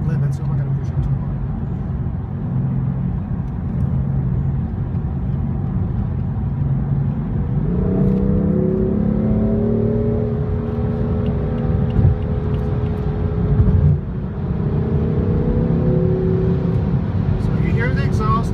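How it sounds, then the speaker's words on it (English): Steady engine and exhaust drone inside a moving 2015 BMW M4 with constant wind rush, rising in pitch partway through as the car accelerates; a voice talks over it. "So you hear the exhaust, you hear a lot of wind noise."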